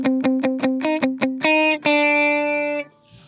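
Electric guitar with a distorted lead tone, a run of short, clipped muted notes picked in quick succession, then two longer sustained notes ringing out, close and loud.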